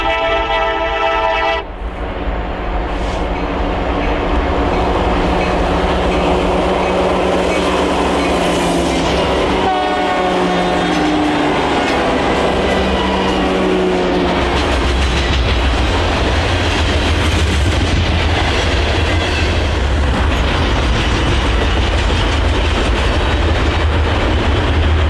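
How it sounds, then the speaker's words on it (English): A coal train rolls past at track speed near Provo, Utah, loud and close throughout, with a horn sounding early, steady rail clatter and a heavy low rumble that builds as the cars go by. "we caught the coal train at track speed one final time"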